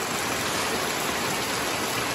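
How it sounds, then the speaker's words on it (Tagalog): Steady morning rain hisses evenly and continuously, close and fairly soft, with no voices. "Oh, mo ni ulan guys."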